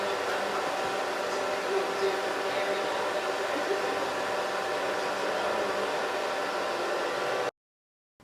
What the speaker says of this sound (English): if you're looking for a hooded dryer like the one that I use